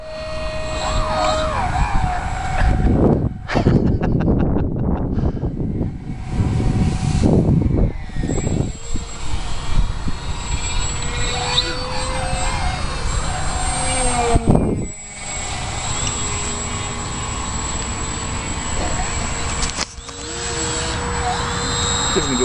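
An RC Polaris model airplane's electric motor whines overhead on a fast pass, its pitch rising and falling as it sweeps by, with a loud near burst early on and outdoor voices talking at times.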